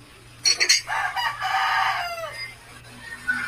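A grey sweater chicken clucks and calls up close, a few sharp bursts followed by a longer drawn-out vocalization, with faint ambient hum between calls and no talking.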